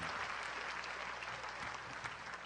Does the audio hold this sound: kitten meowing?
no